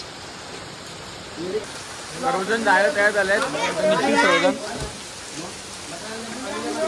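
Steady rain hisses in the background while people talk over it for a few seconds, then the soft downpour carries on.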